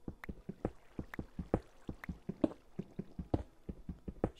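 Rhythmic, soft repeated thuds and splashy taps in a Minecraft cave, evenly spaced like footsteps or dripping beside flowing water, fairly quiet and steady with no voices.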